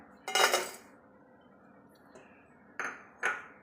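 Jaggery for syrup goes into a metal pan, one clattering clink followed by two shorter metallic knocks, close and fairly quiet with silence between.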